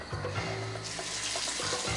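Water running from a shower in a steady splashing hiss, close by, with a few faint thumps and tonal hums beneath and no talking.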